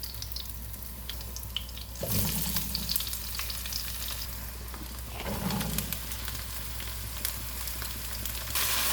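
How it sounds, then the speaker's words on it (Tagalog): Garlic browning in a pan with onion added, a steady broadband sizzle of frying running throughout, with two louder bursts of crackle as ingredients hit the hot oil or are stirred, alone without talk. "Kailangan maging brown muna yung ating garlic. Tsaka natin ilalagay yung ating onion para lumabas yung bango niya."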